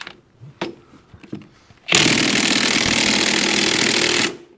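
A cordless battery impact tool works a nut while an IHC 844 tractor is being split. It gives one loud, close, sustained buzzing burst of about two and a half seconds after a few quiet knocks and clatters.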